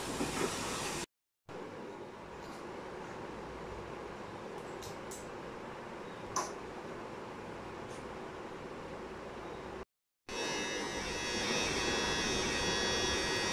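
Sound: hair clipper during a haircut

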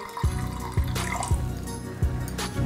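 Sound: water being poured into a pan for sugar syrup

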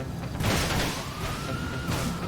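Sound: police car siren chasing player in video game GTA Online

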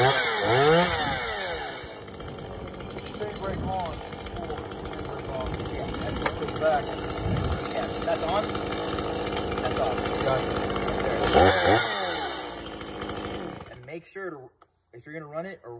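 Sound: Stihl Rollomatic E Mini chainsaw running

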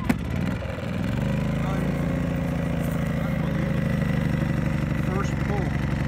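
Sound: Powerhorse 2000 W gas inverter generator starting on first pull

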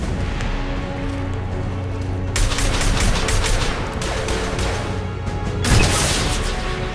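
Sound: rockets and gunfire in Mass Effect 2 video game

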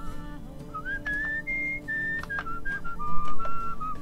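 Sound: whistling in the video game Where the Water Tastes Like Wine

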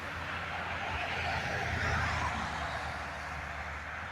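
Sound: cars slowing down on a street

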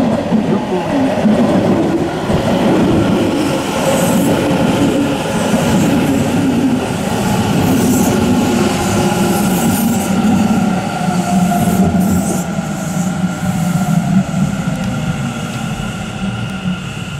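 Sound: six-car Kintetsu Nara Line train arriving at Higashi-Hanazono station

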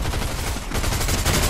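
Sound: gunshot in Fortnite video game

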